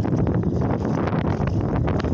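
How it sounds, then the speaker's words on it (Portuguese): Strong wind gusts buffet the microphone behind a hill by the sea near Guarapari, a continuous loud roaring rumble with fluctuating bursts and no one talking. "só pra vocês verem como é que tá as rajadas de vento aqui atrás do morro"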